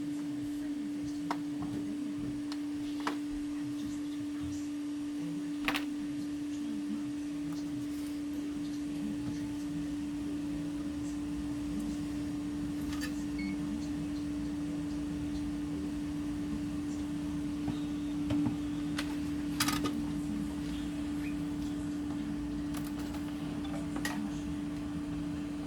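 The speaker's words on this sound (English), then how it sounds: "extractor running." A solder fume extractor fan running steadily at a repair bench, a quiet constant hum with a fixed tone and a soft airy hiss underneath, broken by occasional faint ticks and clicks.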